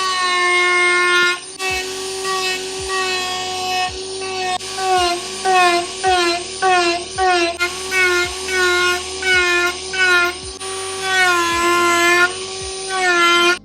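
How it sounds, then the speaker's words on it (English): A Dremel rotary tool sands a prop back piece with a sanding bob, a loud high-pitched motor whine that drops and rises in pitch as the bit bears down in repeated passes, with sharp taps between strokes. "So now I'm going to sand with a Dremel to the line."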